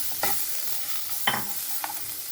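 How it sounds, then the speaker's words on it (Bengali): A spatula stirs turmeric and chili powder through a pan over low heat, three distinct scraping strokes over a faint background sizzle, close and fairly quiet. "হলুদ গুঁড়ো ছোটো 1 চামচ, আর ছোটো 1 চামচ লঙ্কা গুঁড়ো দিয়ে একটু ভালো করে নেড়ে নেব।"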